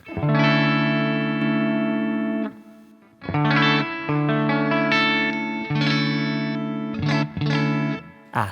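Electric guitar through a smart guitar amp simulator with cab sim, with a processed, slightly chorused tone, playing sustained chords and short phrases in clear bursts, up close and without speech.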